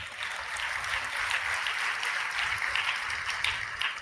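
An audience at a Christian worship gathering claps in a steady, moderately loud wash of applause, with no talk over it.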